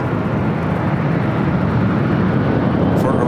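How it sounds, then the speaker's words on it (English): A British Airways Boeing 777-300ER airliner arriving at Los Angeles International Airport, heard as a loud, steady, broadband jet roar that stays constant and close throughout. "Our British Airways, the 777-300ER up next."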